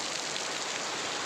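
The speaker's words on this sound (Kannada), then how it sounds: "ಎಷ್ಟು ಜೋರಾಗಿ ಮಳೆ ಬರ್ತೈತೆ ನೋಡಿ" Heavy rain pours down steadily in a village setting with water running in the drains, a dense, loud, unbroken hiss with no voices heard.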